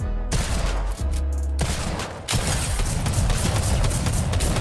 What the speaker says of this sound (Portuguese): Essa shotgun é muito ridícula, velho.